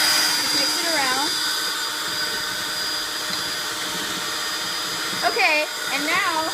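Electric mixer whirring steadily through vanilla cupcake batter, a constant close motor drone with a voice speaking over it at moments.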